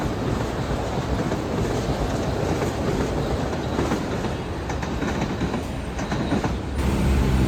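A Metro-North M8 commuter train rolls past on track 4 at a rail portal, a loud, close, continuous rumble with rhythmic wheel clatter and a faint squeal throughout.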